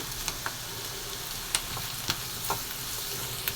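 Curry leaves and dried red chillies fry in hot oil for intestine chukka, giving a steady close sizzle with a few sharp crackles and stirring clinks scattered through it.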